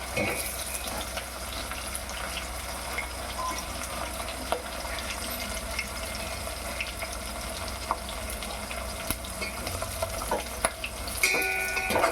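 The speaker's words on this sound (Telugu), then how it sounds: "బాగా ఎర్రగా వేగిద్దాం" Prawns frying in oil for a Rayalaseema-style green pea and prawn curry give a steady sizzle, with occasional clinks of stirring and a faint background voice.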